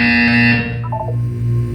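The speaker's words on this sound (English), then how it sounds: "You will hear a buzzer." A Portal 2 test chamber buzzer sounds as a loud, steady electronic drone that holds, then shifts into a short wavering pattern of higher tones before dropping back to a low hum, with no talk.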